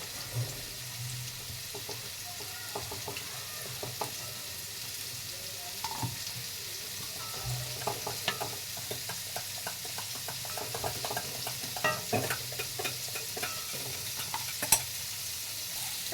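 A continuous hissing sizzle comes from chicken pieces for chili chicken frying slowly in a pan, with scattered clinks and scrapes of stirring, busier toward the end.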